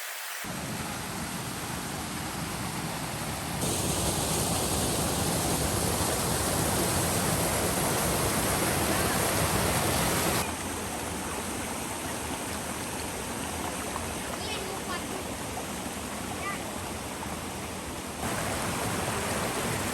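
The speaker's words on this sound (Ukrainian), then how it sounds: "А зараз підемо подивимось сам водоспад." A waterfall roars in a constant broad rush, its intensity shifting slightly in a few steps over the span.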